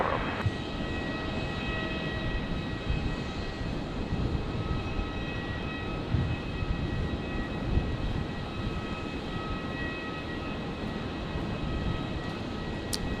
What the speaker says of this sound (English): Qatar triple there. Just begun its taxi.